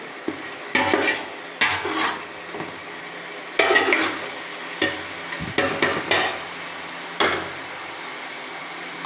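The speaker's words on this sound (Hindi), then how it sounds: "अब इसके अंदर मैं ऐड करूँगी ये अदरक और लहसुन बारीक कुटा हुआ। अब इसकी जो है मैं अच्छी तरह से भुनाई करूँगी।" Finely crushed ginger and garlic fry in a pan while a spoon stirs and knocks against the metal in sharp, irregular clanks, heard over a soft sizzle.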